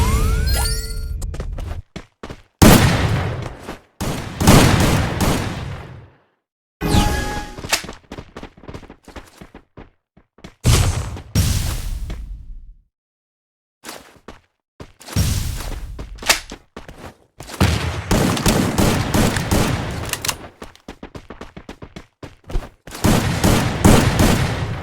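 Gunfire in the Free Fire mobile game comes in repeated loud bursts of rapid automatic shots, separated by brief silent gaps, with some single cracks and sustained volleys up close.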